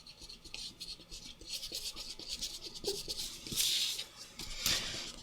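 A white plastic eraser rubs pencil marks off paper in quick, uneven scrubbing strokes, close and fairly soft, with two brighter, harsher bursts of rubbing near the end.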